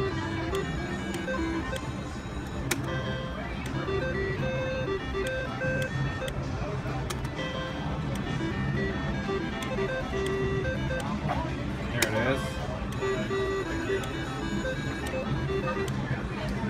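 Electronic jingles and chimes from a high limit slot machine in a Las Vegas or Southern California casino, playing at $10 a spin, ring on steadily and loud with bright tonal bursts, mixed with casino background noise.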